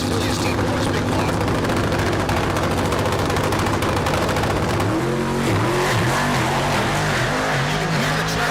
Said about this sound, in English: You can hear the traction control just going wild on that car.